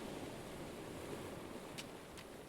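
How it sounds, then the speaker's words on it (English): Ocean waves at Ocean Park beach in San Juan, Puerto Rico, wash in a soft, steady hiss of distant surf, faint and unbroken, with no one speaking. "The waves of Ocean Park crash rhythmically in the distance"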